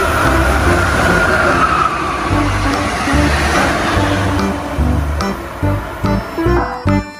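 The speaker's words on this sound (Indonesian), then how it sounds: "Lihat teman-teman, di sini ada kereta cepat." A toy high-speed train rolling along, giving a steady rumbling, rattling run that continues for several seconds before breaking into short separate bursts near the end.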